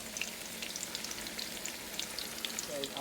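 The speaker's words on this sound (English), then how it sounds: "I just got done frying the meatballs." Meatballs sizzle and crackle in a frying pan, a soft steady hiss dotted with quick pops and spits, close but fairly quiet, with no talking.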